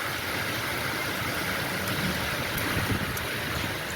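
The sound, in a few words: storm rainwater running like a river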